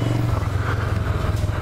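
A Suzuki GS500 driving-school motorcycle idles close by with a steady low engine rumble and faint mechanical clatter, holding an even tone throughout without talk.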